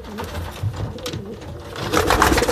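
Old Dutch Capuchine pigeons in a breeding cage give soft, low cooing murmurs, close by and fairly quiet, with a fuller burst of cooing toward the end.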